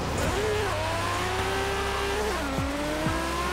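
A Nissan Skyline GT-R R32 in Forza Horizon 3 drives with a steady, close engine drone, and several rising and falling pitch sweeps come from gear changes or passing cars.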